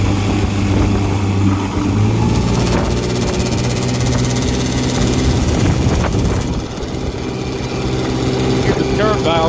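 A 1959 Evinrude Golden Jubilee Sportwin 10 HP outboard motor runs during a pond test, a loud, continuous buzzing drone with a rattling hood throughout.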